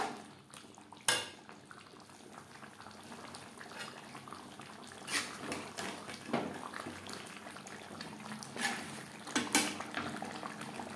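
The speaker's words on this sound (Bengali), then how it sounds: "চিকেন প্রায় সেদ্ধ হয়ে এসছে" Chicken curry bubbling in a covered pan, nearly cooked, with a soft continuous simmer broken by several sharp clinks of a lid or utensil against metal, no voices.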